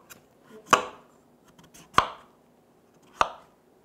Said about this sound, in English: So I'm gonna just hack the crap out of this butternut squash.